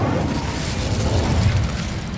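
Incendio, a fire spell in the game Hogwarts Legacy, is cast as a loud burst of rushing, roaring flame with a dense low rumble lasting about two seconds, without any speech.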